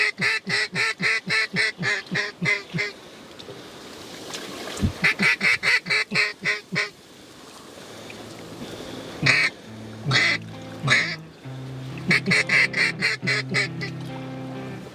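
Mallard drakes and hens quack in rapid bursts while flying in over public land on a windy day during a Pacific Flyway duck hunt, with loud rhythmic calls near and far and wind rumbling in between.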